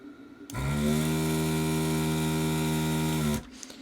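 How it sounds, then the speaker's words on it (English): A vacuum desoldering gun gives a steady electric motor whine with strong harmonic tones for about three seconds, starting and stopping abruptly, loud and close, while desoldering a GM 6.5L diesel pump-mounted driver module. "I'm going to be using a vacuum desoldering gun"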